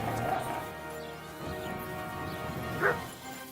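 A dog in the video game Kingdom Come: Deliverance 2 gives a few yips and whimpers over a low background hum, then one sharper bark near the end, fairly close.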